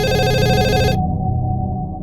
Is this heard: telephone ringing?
yes